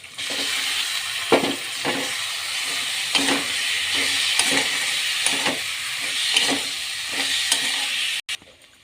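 Chicken mince with salt, chili powder, cumin and turmeric sizzling in a pan, a steady bright hiss with periodic scraping stirs throughout, close and loud.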